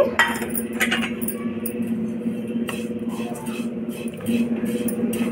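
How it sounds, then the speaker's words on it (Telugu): Oats roasting in a pan on a stovetop, with a spoon clinking and scraping against the metal in irregular taps over a low steady background hum; no talking. "ఇంకా ముందుగా ఓట్స్ని వేయించుకోవాలి."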